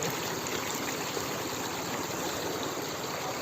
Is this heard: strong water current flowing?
yes